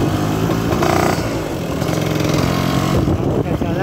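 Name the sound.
Vespa scooter engine revving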